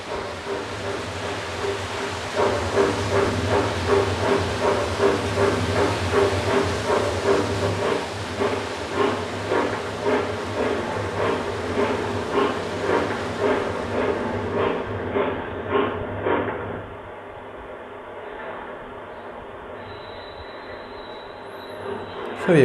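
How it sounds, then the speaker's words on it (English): Hornby HM6000 sound module driving a model Flying Scotsman steam locomotive, giving a steady rhythmic chuff with hiss that quickens over about fifteen seconds and then stops, leaving a quieter hum. "Steam engine, and let's get the Flying Scotsman moving."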